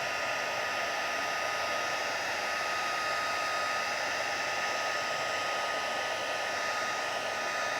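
A heat tool blows hot air to melt embossing powder on a paper card, a steady loud whooshing hiss with a constant fan whine, running unbroken with no talk.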